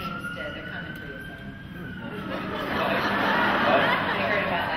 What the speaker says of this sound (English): Did you hear the siren?